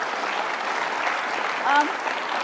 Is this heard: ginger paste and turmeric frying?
no